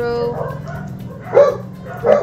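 A dog barks in a house during a card unboxing, two short yaps near the end over a steady low hum, with faint room sound throughout.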